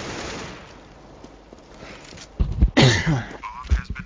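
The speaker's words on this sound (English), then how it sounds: "Excuse me as I clear my throat." A quiet stretch of faint background noise gives way to a sudden, loud throat clearing up close from an esports commentator, a couple of harsh rasping bursts near the end.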